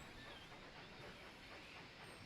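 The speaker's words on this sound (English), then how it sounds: "There goes our little train." A small train pulls away in the railroad management game Railroad Tycoon 3, a faint steady rumble of rolling wheels and rail noise with a light hiss, continuous throughout.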